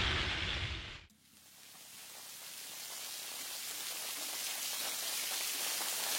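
Heavy rain from a passing rain front pours down on gravel-bike cyclists riding the Danish North Sea coast cycle route, a dense, steady hiss that swells after a brief dip near the start and stays loud and close throughout, with no voices.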